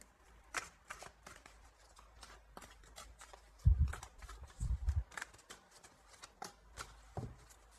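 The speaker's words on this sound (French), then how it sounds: "Je vais prendre quelques cartes encore" Tarot cards are shuffled by hand close up, giving soft riffling flutters and light taps followed by a few heavier thumps of the deck, quiet and without speech.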